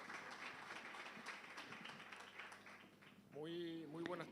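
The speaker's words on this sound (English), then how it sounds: "A warm round of applause for him." A warm round of applause at a university business school event welcomes a speaker, steady dense clapping filling the room before a voice begins near the end.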